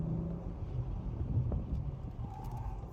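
Low, rumbling road and engine noise comes from inside an Acura TLX Type-S on the move, a steady close drone with wind buffeting and faint knocks.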